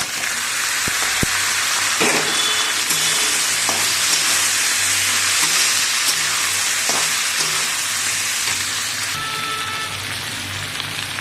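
Potatoes and Malabar spinach stalks sizzle and fry steadily in a hot pan with ginger-garlic paste, a loud continuous crackle with occasional clinks of stirring throughout.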